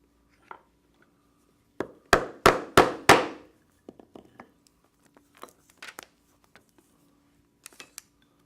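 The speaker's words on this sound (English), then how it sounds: "Then I will cut this with the strap end punch" Leather strap for a backpack being cut with a strap end punch: four sharp, loud strikes in quick succession, followed by scattered lighter knocks and handling clicks.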